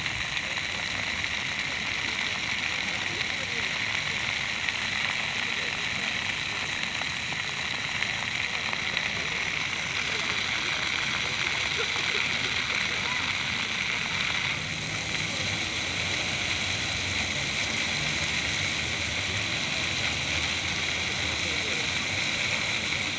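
A new city fountain in central Novosibirsk sprays and splashes in a continuous, steady wash of falling water that stays even throughout, heard close and moderately loud.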